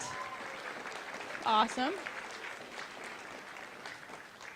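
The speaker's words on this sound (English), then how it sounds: "so let's get another round of applause" An audience at a fencing demonstration applauds after an épée bout, with soft, scattered clapping in a hall under a brief spoken exclamation.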